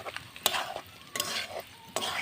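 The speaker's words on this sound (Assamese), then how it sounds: "এই যে ব্ৰইলাৰৰ চালটা ভাজি আছো আমি" Broiler chicken skin frying in a pan over an outdoor fire on a cold day, with repeated bursts of sizzling and stirring scrapes at a steady, close, moderate level.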